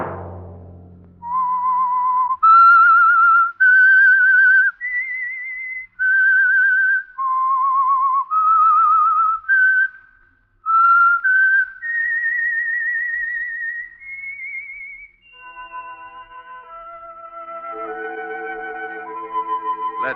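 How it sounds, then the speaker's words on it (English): A lone human whistle plays a slow, sustained melodic theme, clear and close with long held notes, as the signature signal of the 1948 radio mystery program The Whistler. "Let that whistle be your signal for the Signal Oil program, The Whistler"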